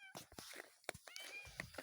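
A cat gives several short meows amid light footsteps and rustling outdoors in the snow, close and quiet, with someone talking softly.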